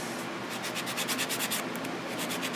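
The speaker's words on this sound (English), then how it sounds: "Get your buffer, put this side towards your cuticle." A nail buffer rubs quickly back and forth across acrylic nails, making a close, soft, rhythmic scratching that runs in short, fast strokes throughout.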